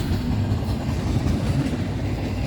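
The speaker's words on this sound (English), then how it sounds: "Here comes the end of the train" Freight train rolling past in a large rail yard near Elkhart, a loud, steady low rumble with continuous wheel and car noise and a faint clickety rhythm, no voices.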